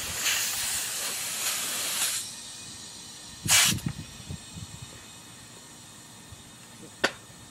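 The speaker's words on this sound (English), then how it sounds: "Filling it with an air compressor." A homemade air rifle being filled by an air compressor, heard as a broad hiss of rushing air for about two seconds, then a sharp louder burst of air with clatter, and a brief final hiss.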